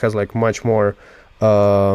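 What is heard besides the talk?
None of the usual background noises is heard.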